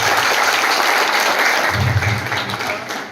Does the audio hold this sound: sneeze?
no